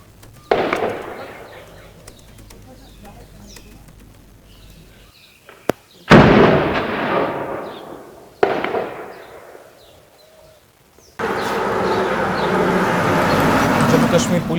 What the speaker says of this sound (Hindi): इन विजुअल्स में आप बखौर सुन सकते हैं कि किस तरीके से वहां पर गोलियों की आवाज से पूरा इलाका दहल उठा है।